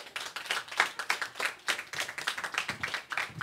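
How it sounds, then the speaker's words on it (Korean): Small group at a church study class claps together, a rapid irregular patter of distinct hand claps close by, quiet and uneven, with no talking. "자 박수하겠습니다."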